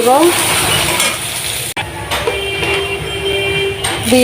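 Loud, steady sizzling of chopped onion and crushed garlic frying in a hot pan, with occasional stirring and clinks of a utensil against metal, close up.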